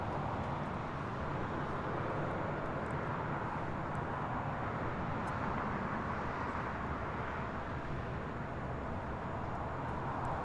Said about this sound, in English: Asiana A380 Super should be the next takeoff here shortly on the north side.